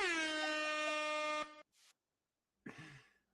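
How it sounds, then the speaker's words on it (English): An air horn sound effect blasts one long, loud, steady tone for about a second and a half, followed by a short burst and a later rough, fading blast, with no talk. "here's an air horn for you"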